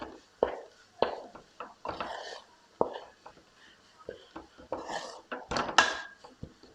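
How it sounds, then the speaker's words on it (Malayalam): A spoon stirs Kerala-style masala for kappa biryani in a pan, making repeated close scrapes and clinks in an irregular rhythm, with no talking. "ഒന്ന് നല്ല രീതിയിൽ ഒന്ന് ഇളക്കി കൊടുക്കാം."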